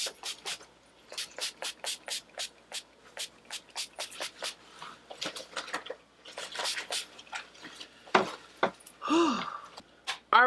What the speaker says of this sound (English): I'm going to take some setting spray, and I'm just going to go ahead and set all of this in